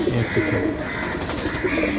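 Several pigeons at a breeder's loft coo in low, rolling bursts, close and fairly loud, with overlapping calls repeating through the short stretch.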